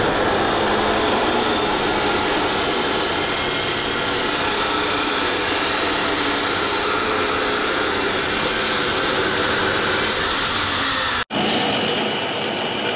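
A loud, steady power tool grinds through material during barn renovation for about eleven seconds, then cuts out abruptly before a brief, quieter resumption.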